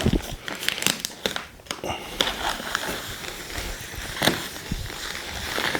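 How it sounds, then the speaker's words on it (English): Scissors slice through the plastic wrapping around a new rug in a listening room, making crinkly, tearing cuts in uneven bursts, close and fairly loud, with a few brief pauses between strokes. "Wow, we have a scissor that actually works in this house."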